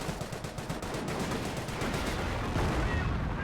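A 25-pounder artillery barrage in Company of Heroes pounds away as rapid, overlapping blasts and crackling fire, forming a dense, steady rumble at a moderate distance.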